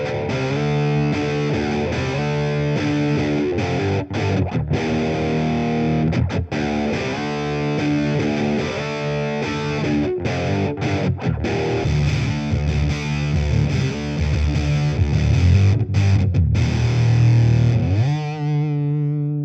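An electric guitar fitted with Widdershins Hekate P90 pickups plays heavily distorted chords and riffs, loud and continuous, before cutting off abruptly near the end to leave a faint hum.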